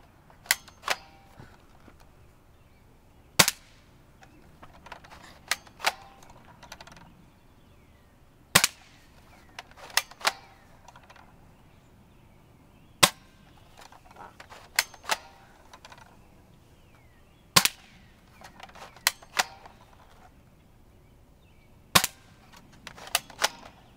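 A Socom M14 rifle fires at targets outdoors, sharp distant-sounding cracks spaced several seconds apart over a quiet background, with small clicks and rustles between.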